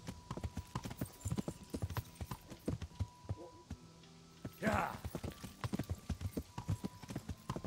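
Horse hooves clip-clop steadily in the video game Kingdom Come Deliverance, a close, even rhythm of hoofbeats with a brief rougher burst midway.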